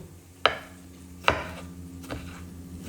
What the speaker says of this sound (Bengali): তার জন্য খুব তাড়াহুড়ো করে আমি হচ্ছে সবজিগুলো কেটে নিচ্ছি